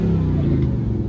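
A motorcycle with an active exhaust at an outdoor bike meet, a loud, steady low rumble close by with voices faintly beneath it.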